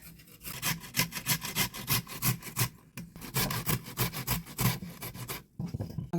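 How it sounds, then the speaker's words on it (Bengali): Potato, ginger and green chillies are rubbed against a hand grater in a home kitchen, making rapid, rhythmic rasping strokes, about two or three per second with short pauses, close by and without speech. "আলু নিয়েছি, আদা আর দুটো কাঁচা লঙ্কা নিয়েছি। এবার এগুলোকে ঘষে নেব।"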